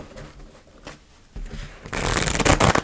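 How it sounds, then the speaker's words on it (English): Tarot cards being shuffled close up, a soft riffling that builds into a louder, denser flutter of cards in the final second, with no talking. "I'm just going to shuffle one more time."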